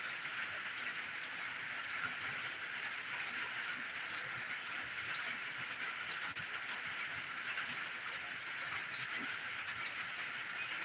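Steady early morning rain falling on a Sunday in Roanoke, Alabama, a continuous even hiss with scattered drops and no voices.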